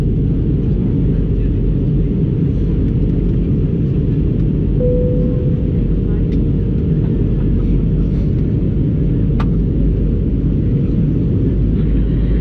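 Steady, loud broadband roar inside a British Airways airliner cabin during descent toward London, a constant engine and airflow drone with a brief faint chime and no audible talk.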